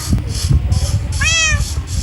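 Minecraft cat gives a single clear, rising-and-falling meow over a low background rumble and soft thumps.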